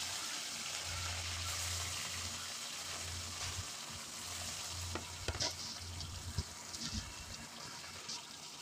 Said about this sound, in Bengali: তেল গরম হয়ে গেলে মাছগুলোকে ভালো করে ভেজে নিতে হবে।